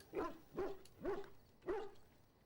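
Mabari war dog from Dragon Age: Origins barking in four short, evenly spaced woofs, fairly faint and clear, with nothing else heard between them.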